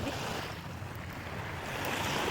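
Sea waves wash onto a beach in a steady, unbroken surf rush, with wind noise layered over it and no voices.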